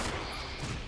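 Pistol fire in the Resident Evil video game, a quick dense burst of shots packed into about a second, loud and close with no talk over it.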